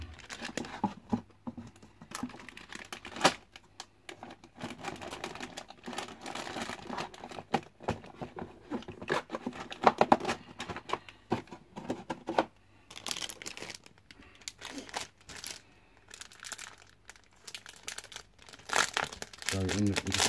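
Plastic shrink wrap being torn and crinkled off a Dominion board game box set, close and irregular, crackling in repeated bursts over about twenty seconds with brief pauses between pulls.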